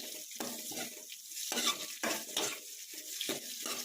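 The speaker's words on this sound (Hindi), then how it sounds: "अब मैं इसमें प्याज शामिल कर देती हूँ।" Onions tossed into a pan of roasted whole spices for Punjabi chicken and stirred, with rhythmic scraping and clinking strokes over a soft sizzle, close and with no talking.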